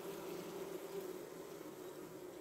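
Honeybees buzzing at an opened beehive, a steady, soft, continuous hum of many insects close by, with no talk over it.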